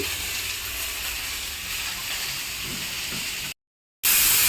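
Vegetables for sundakkai sambar sauté in a pan, giving a steady soft sizzling hiss that runs evenly, then cuts out briefly before returning louder.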